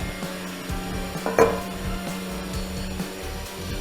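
A pan is set down on a home kitchen stove while cooking Karnataka-style tili saaru rasam: one sharp metallic clatter with a short ring, over a steady low background hum.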